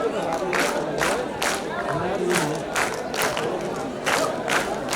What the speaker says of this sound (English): These are students from below who are taking the lead in applauding.